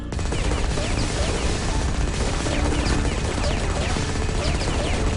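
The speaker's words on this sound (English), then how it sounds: "Heavy machine gun." Heavy machine gun fire from a minigun-style weapon in the video game Firefall, a dense continuous rattle of rapid shots lasting throughout, loud and close.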